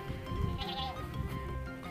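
Goats bleating on a goat farm, several overlapping calls close by against steady farmyard noise, with no talk.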